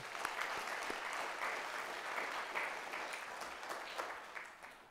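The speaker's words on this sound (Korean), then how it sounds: "우리 하나님 아버지께 영광의 박수 먼저 올리겠습니다." A church congregation at a New Year thanksgiving service claps together in sustained, even applause lasting several seconds, dense and moderately distant.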